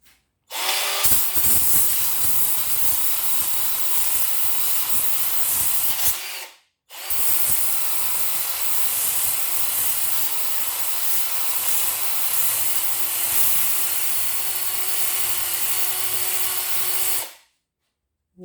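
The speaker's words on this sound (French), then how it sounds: "j'ai mis une feuille abrasive et je vais essayer de poncer cette bride en fait" A Parkside PAAP12C3 renovation polisher fitted with an abrasive sheet sands paint off a metal water flange at its first speed, a loud continuous grinding whir in two long runs separated by a brief pause.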